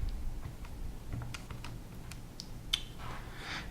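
Soft, fast keypresses on a graphing calculator keypad, a scattered run of light clicks close by with quiet gaps and no talking.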